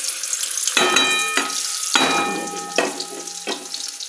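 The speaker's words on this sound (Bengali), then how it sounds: "এবার কড়াইতে একটু তেল দিয়ে এই পটল বাটাটা দিয়ে দেব" Pointed gourd paste frying in oil in a wok, with a loud continuous sizzle close up, broken by a few brief bright tonal clinks and knocks.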